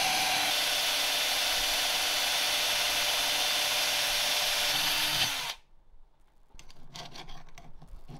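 The edges of a PC faceplate are filed with a steady, whirring abrasive hiss that runs close and even for several seconds, stops abruptly, then gives way to quieter, rougher intermittent scraping.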